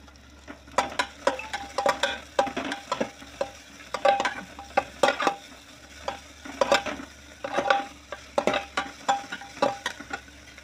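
Chopped onion frying in a pan for whole masoor rice, stirred with a spoon that scrapes and clinks against the metal. The strokes come in regular bursts over a low sizzle, close and without speech.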